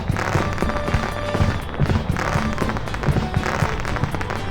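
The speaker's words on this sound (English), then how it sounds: "All for this fireworks show." New Year fireworks in Rune Factory: Oceans crackle and pop continuously, a dense, loud barrage of bursts heard close throughout.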